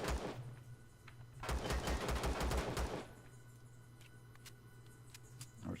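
Gunfire in the video game Empyrion from a shotgun or pistol, a rapid burst of loud shots lasting about a second and a half, followed by a few faint isolated clicks and thumps over a steady hum.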